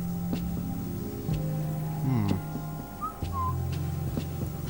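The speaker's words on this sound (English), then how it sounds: "What keeps whistling at me?" Short whistled notes sound in the video game Quantum Conundrum, a few brief tones standing out over steady game music and ambient hum.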